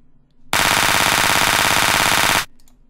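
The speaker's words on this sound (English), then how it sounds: "Machine gun fire." Machine gun fire from a drum sample in Groove Agent 4 repeats as a loud, fast, continuous burst of shots for about two seconds, then cuts off abruptly with no one talking.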